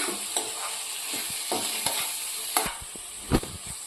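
Chopped green onion and green garlic stirred in a frying pan, a continuous sizzle broken by repeated scraping strokes of a spoon, close and fairly loud, with no talking.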